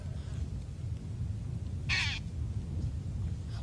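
A crow gives a single short, harsh caw in the middle, fairly clear above a low, steady rumble of background noise, with no voices alongside it.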